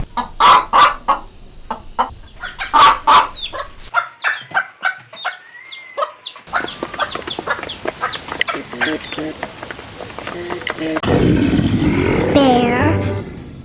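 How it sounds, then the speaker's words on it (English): Chickens clucking in a farmyard, a run of short, loud, repeated clucks with squawky calls, then a busier stretch of overlapping clucking and a harsher rooster-like cry near the end. "Chicken."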